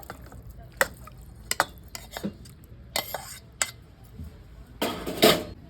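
Mutton keema being placed into a pressure cooker: scattered metallic clinks and scrapes of a utensil against the pot, irregular and close, ending in a louder rattling scrape.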